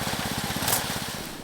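A homemade motor trike engine runs steadily nearby, a rapid buzzing putter with a loose chain rattling along with it, no talk.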